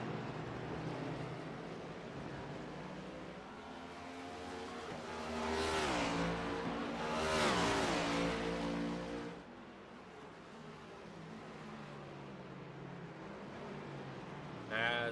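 Race cars at Watkins Glen in the Old Glory Cup Genesis Aviation Series, engines droning and revving as the cars pass through a corner, swelling loudly midway and then fading, under continuous commentary.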